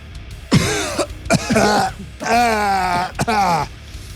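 Harsh, strained coughing and throat clearing in several bursts, close and loud, with groaning tones between them.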